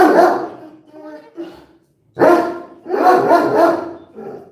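Jake the dog lets out a run of loud, close barks and yips in bursts separated by a short pause, with a voice mixed in among them.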